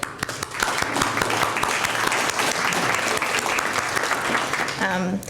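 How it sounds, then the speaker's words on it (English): An audience at a human rights awards ceremony breaks into loud, sustained applause, with many hands clapping in a dense wash that carries steadily to the end. "Please give yourselves a round of applause too."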